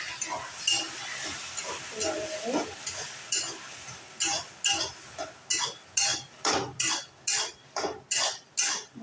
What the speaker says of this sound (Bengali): লঙ্কাগুলো দিয়ে আর একটু নেড়ে নিলাম